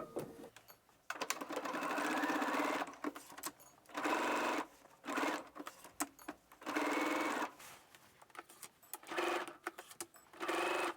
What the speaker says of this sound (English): Now we're gonna sew the front piece to our side front at 5/8 of an inch seam allowance.